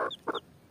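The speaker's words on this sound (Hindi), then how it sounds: "एक मुर्गी ने आज 12 बच्चे दिए हैं।" A village hen that has just hatched twelve chicks gives a few soft, short clucks in a quick pair of bursts, close by and faint, with no talk.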